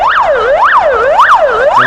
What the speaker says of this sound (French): l'ambulance qui essaie de se frayer un chemin, elle tant bien que mal, elle passe